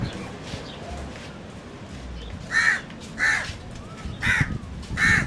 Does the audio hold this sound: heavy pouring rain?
no